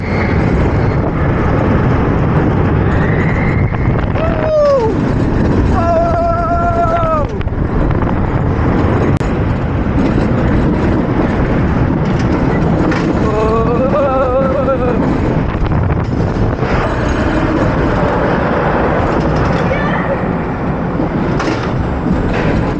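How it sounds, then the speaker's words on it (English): A ride on El Loco, a 90-foot roller coaster reaching 45 mph with a straight-down drop and two inversions. Loud, continuous rumbling and rattling of the cars on the track runs throughout, with rising and falling whistling tones over the roar. "I just got off my ride of El Loco now, and that ride is a little bit rough too"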